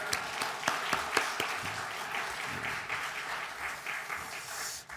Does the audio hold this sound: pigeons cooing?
no